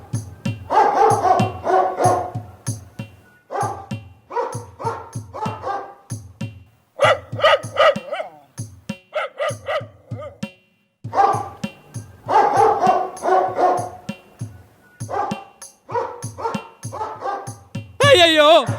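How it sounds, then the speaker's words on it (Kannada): Dog barking in repeated loud bursts throughout a cartoon scene, close by, with a voice speaking between and over the barks. "ಅಯ್ಯಯ್ಯೋ, ಈ ನಾಯಿ ಹತ್ತಿರವೇ ಬಂದು ಬಿಟ್ಟಿತು."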